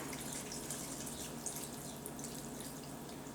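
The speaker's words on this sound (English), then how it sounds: "And then we're going to cover it with red wine." Red wine poured over a piece of meat and a mirepoix of celery, onion and carrots in a pot, a steady close liquid splashing and trickling with no talk.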